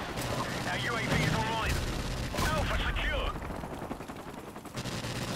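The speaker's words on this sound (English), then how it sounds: "I'm being shot from actually nowhere." Rapid bursts of gunfire from a Call of Duty 4 multiplayer match crackle loudly and densely, overlapping with game noise and voices talking over the action.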